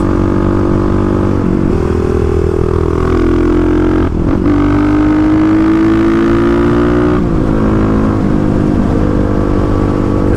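A Kawasaki KLX351 single-cylinder motorcycle engine on stock cams pulls loudly toward its roughly 9,500 rpm redline, the rising drone broken by a few brief shifts or throttle dips over ten seconds.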